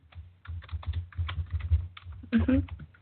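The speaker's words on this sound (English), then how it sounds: "I was typing." Computer keyboard typing during a paranormal-themed talk show recording, a quick run of soft, irregular key clicks close to the mic, with a brief burst of voice near the end.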